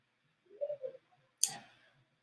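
A single sharp computer mouse click on a filter button in GigToDo script software, crisp and close, following a few faint soft handling noises and then fading quickly into quiet.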